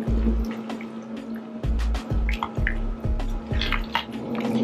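Pasta sauce with added sugar is stirred in a crockpot, giving close wet squelches and drippy scrapes in uneven strokes, with a few thuds of the spoon against the pot.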